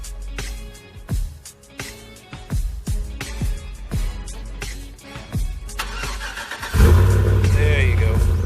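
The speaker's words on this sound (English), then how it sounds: "Here's a cold start." A car's engine cold start: the starter cranks in a series of rhythmic clunking beats for several seconds, then the engine catches and settles into a loud, steady idle.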